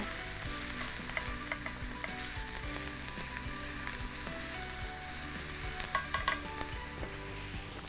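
Onions sweat and sizzle steadily in a pan for a zucchini lasagna, a dense continuous frying hiss with light scrapes of stirring throughout, close and even in level with no talk.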